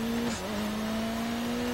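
Rallycross car in Dirt Rally 2.0 held at full throttle on a dry, rutted Canadian track, a steady high engine drone at constant pitch with a brief dip near the start, loud and close.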